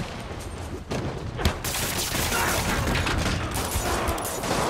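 Rockets fired in Spider-Man on PS5, a dense roaring barrage of blasts and whooshing launches running continuously with a few sharper bursts early on.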